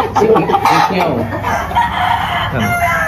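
A rooster crows loudly and close by, with clucking fowl around it, while someone talks over the sound.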